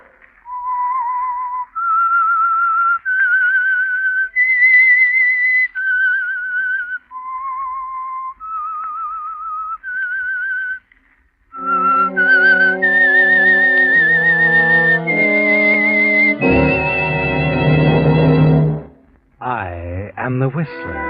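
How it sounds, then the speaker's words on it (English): A lone whistler performs the eerie theme melody of The Whistler radio mystery program: a slow series of clear, sustained whistled notes rising and falling, followed by a louder orchestral phrase that swells and ends abruptly. "That whistle is your invitation to listen to the Household Finance Corporation"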